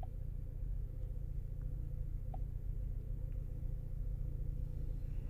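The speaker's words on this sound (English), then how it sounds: "we just started up Chevy Cruze. Seems to be running pretty good right now." A 2018 Chevrolet Cruze with a 1.4L turbo engine and a cylinder 1 misfire idles just after starting, a steady low rumble heard up close with no talking.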